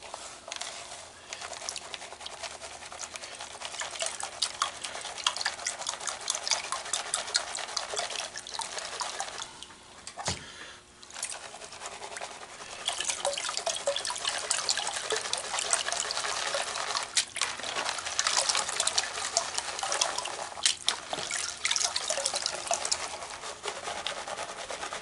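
Paydirt being panned for gold in water, with gentle sloshing, dripping and trickling continuing at a low, close level and short pauses between swirls.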